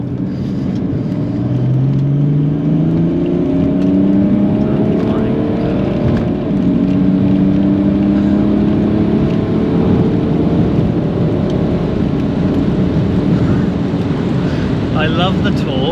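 A 400 BHP twin-turbo BMW car accelerates hard, its loud engine note rising through the gears as a continuous roar close by, with no speech over it.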